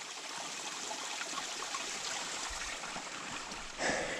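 Fresh water running into a river at a bend, a soft continuous trickle and flow heard faintly outdoors, steady throughout with a brief louder swell near the end.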